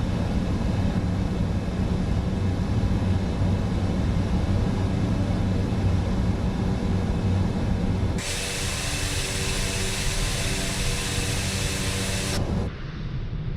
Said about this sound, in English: And there goes a flyby view of the aircraft, very slow indeed.